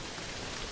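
Steady rain patters densely on a tent, a constant even hiss with no voices.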